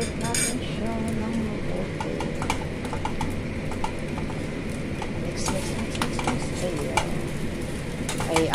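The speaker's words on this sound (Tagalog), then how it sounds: "haluin ulit natin siya" Fried rice with egg is stirred in a hot pan. A constant close sizzle runs throughout, broken by repeated spatula scrapes and clinks against the pan.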